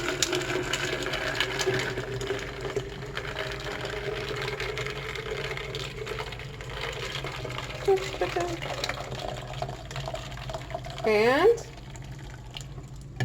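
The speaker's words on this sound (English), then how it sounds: "all I'm going to do is pour." Tea poured into a pitcher half full of ice, a steady liquid splash running under a voice, ending in a short rising gurgle as the pour finishes.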